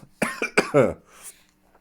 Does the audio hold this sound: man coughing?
yes